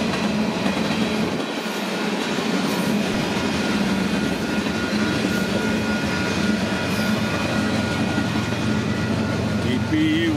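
A huge mixed Union Pacific freight train led by EMD locomotive 6547, with two distributed-power units working hard, rumbles past close by in a steady, loud roar with rolling wheel noise and a faint squeal near the end.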